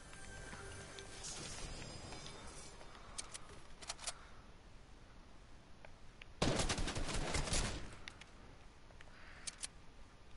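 Video game gunfire, scattered shots early on, then a loud burst of rapid automatic fire midway, with more distant pops trailing off.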